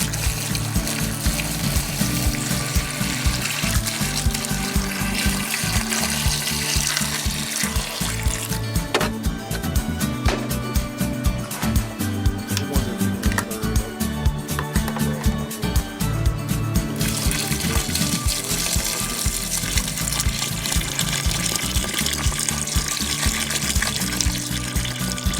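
Water pouring steadily into a container of mashed banana for moonshine, a loud, continuous gushing and splashing stream lasting about twenty-five seconds without talk.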